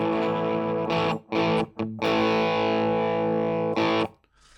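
An Epiphone SG 400 electric guitar runs through a Tantrum distortion pedal and a Klon boost, ringing out as loud, sustained distorted chords with a few brief cut-offs before fading at the end, with no talking.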